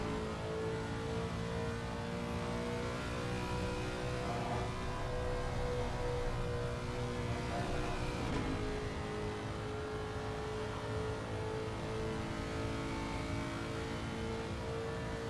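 Race car engines of a Ford Mustang and a Lexus in a sim racing game at Spa, a steady, dense, continuous engine roar that stays loud throughout without any break.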